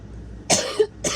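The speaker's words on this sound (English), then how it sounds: "I always cough on these videos" Two sharp coughs from one person close by, with a short pause between them and quiet before.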